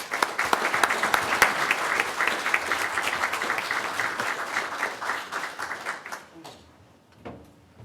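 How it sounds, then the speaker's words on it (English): Audience applause at a county board of commissioners meeting, a steady round of clapping lasting about six seconds before fading out, with a few voices afterward. "Let's give him a round of applause."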